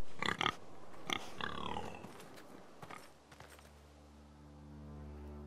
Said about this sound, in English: There was that pig. Is it a pig?